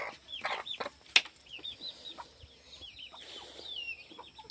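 Chickens cluck softly and intermittently close by, with high thin chick peeps scattered through, brief sharp clucks and chirps standing out over quiet background.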